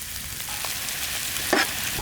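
Onion, capsicum and garlic sautéing in ghee give a steady close sizzle with soft stirring scrapes and one brief louder clink near the end, no voices.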